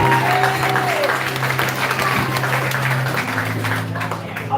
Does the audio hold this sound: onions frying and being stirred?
no